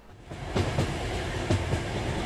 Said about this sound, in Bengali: ট্রেন ছাড়ার সময় হলো। ট্রেন ছাড়ল।